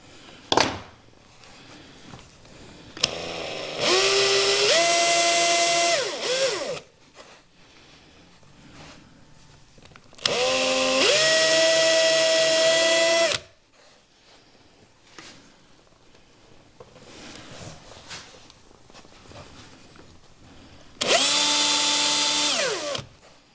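A small power drill whines at high speed boring a 1/16 inch hole in wood, in three separate bursts, each lasting a few seconds, with quiet gaps between them.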